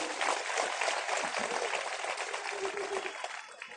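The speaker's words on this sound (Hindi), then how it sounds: "मैं चाहता हूं एक बार जोरदार आपकी तरफ से तालियां होनी चाहिए" Applause from an audience at a talk on the Indian Constitution, a dense broadband wash of clapping that continues steadily and fades slightly at the end.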